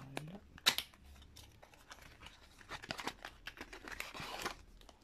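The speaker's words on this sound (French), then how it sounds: "Si j'ai des ciseaux, je vais vite ouvrir" Close-up snipping and crinkling of plastic packaging, with a few sharp cuts and rustles as a package is opened.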